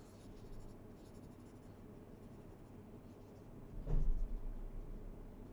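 A pen or marker squeaks faintly across a board while a little cloud diagram is drawn during a wireless networking lecture, a soft continuous scratching over a low room hum with one brief louder bump.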